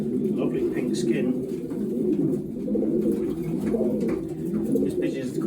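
A low, rolling chorus of racing pigeons cooing nearby while they are basketed for races, steady and continuous, with faint higher chirps now and then.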